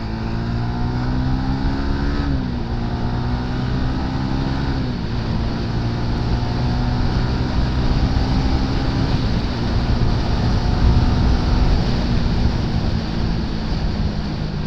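Honda Winner X 150 motorcycle running at high, steady speed, its engine drone loud and continuous with rising and shifting pitch over constant wind rush.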